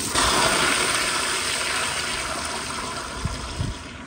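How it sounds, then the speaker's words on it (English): A 2005 Gerber Ultraflush floor-mounted toilet flushes with a loud, steady pressurized rush of water that tapers slightly toward the end, heard alone with no talking. "So it's cool to finally have a floor mounted Ultraflush, but here is another flush."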